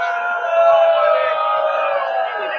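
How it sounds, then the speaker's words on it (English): A crowd at a club soccer match between Macalester and Iowa State boos loudly and steadily, a sustained roar of many voices that swells slightly midway and holds throughout. "A lot of boos from the crowd."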